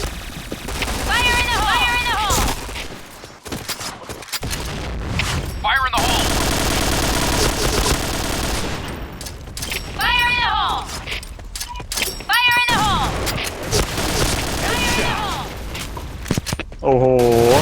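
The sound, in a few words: gunfire in a video game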